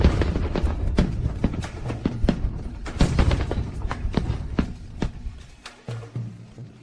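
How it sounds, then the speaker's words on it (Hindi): Firecrackers are set off as an offering to a goddess, giving a rapid irregular string of loud, sharp bangs and thuds that thin out and fade near the end. "मैंने देवी को हमारे लिए छोड़े पटाखे जलाए"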